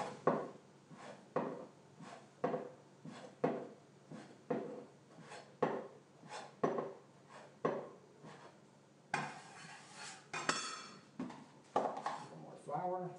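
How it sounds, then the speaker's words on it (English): A bench scraper chops through gnocchi dough on a board in regular, evenly spaced thuds about once a second, close and moderately loud, with a brief rustle of flour partway through. "I'm going to use my scraper to cut about 1-inch pieces"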